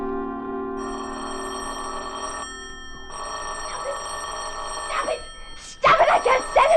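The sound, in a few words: telephone bell ringing in a radio drama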